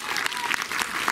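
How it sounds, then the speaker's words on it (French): Lively applause from a film festival audience in Montreuil, France, many hands clapping continuously in a short, energetic burst. "applaudissez si vous répondez positivement"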